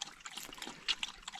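Water trickles and dribbles at a trail water source on the Appalachian Trail, a close, bright babble of small splashes and drips with no talk.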